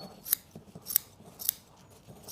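Scissors snip through upholstery fabric on a check-covered wing chair, four or five crisp separate cuts at a steady pace, close and clear, with no talking.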